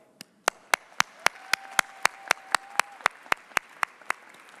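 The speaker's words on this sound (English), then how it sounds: "join me in a round of applause for the family members and faculty members" A steady run of sharp, evenly spaced claps at a university commencement ceremony, loud and close, with a faint tone and murmur underneath rather than full crowd applause.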